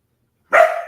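A pet dog lets out a single sharp, close bark that rings briefly and fades after a moment of silence.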